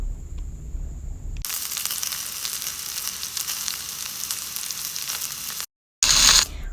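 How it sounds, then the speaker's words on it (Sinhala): Dried sprats, rinsed in hot water, sizzle and crackle loudly in hot oil, a steady frying hiss that cuts off briefly near the end and then resumes, with no one talking. "හාල් මැස්සු ටිකක් උණු වතුරෙන් සෝදගෙන තෙලට දාගත්තා."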